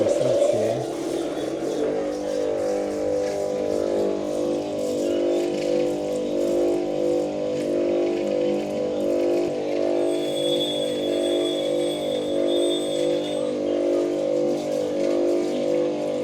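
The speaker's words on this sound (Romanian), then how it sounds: "Și asta este mașina cu care prelucrează pietrele, le polișează." A gemstone polishing machine running in Sri Lanka, giving a loud steady motorized hum with a constant drone throughout, with faint voices and a brief higher whine in the middle.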